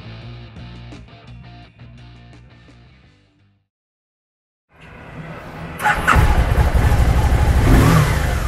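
A 2013 Can-Am Spyder ST-S SM5 trike engine runs at a steady, rough idle, goes quiet for about a second, then rises into loud, close revving that builds and holds to the end.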